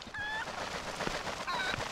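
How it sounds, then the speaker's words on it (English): Two short honking cluck bursts from the golden chicken in the Zelda Twilight Princess HD video game, sounding at the start and again near the end over a busy game soundscape. "Forgot about the golden chicken."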